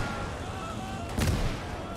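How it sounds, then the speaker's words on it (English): A mortar round bursts in the WWII game Gates of Hell, a single muffled boom landing midway through a steady bed of distant battlefield rumble. "That must have been a mortar."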